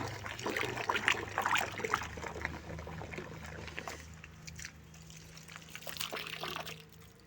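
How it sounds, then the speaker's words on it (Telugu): Water from a tap running in a thin stream into a bucket at home, a steady soft trickle and splash that continues throughout, fairly quiet with some clatter in the background. "మా ట్యాప్ సన్న దారి వస్తుంది"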